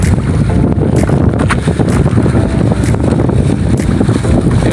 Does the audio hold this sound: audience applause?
no